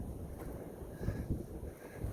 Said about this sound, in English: We've been having like 60-mile-an-hour winds at least.